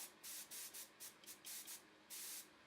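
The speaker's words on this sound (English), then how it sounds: "this is my old airbrush" An old airbrush sprays paint in short hissing bursts, about seven quick pulses of varying length, close and steady, with no other sound between them.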